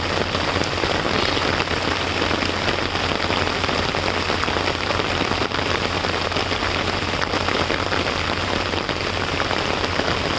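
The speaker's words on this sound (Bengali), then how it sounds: "এই যে ছাতার মধ্যে প্রচণ্ড বৃষ্টি পড়তেছে" Heavy rain drums steadily on an umbrella, a dense, loud, continuous patter with no break, outdoors near a railway line.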